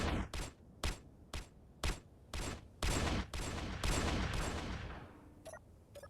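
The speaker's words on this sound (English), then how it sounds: "So now, it's firing like 6 shots at a time." A custom turret gun in Space Engineers fires a rapid series of sharp shots, about eight loud bursts in a steady rhythm that run together into a sustained roar before fading, with no talk over them.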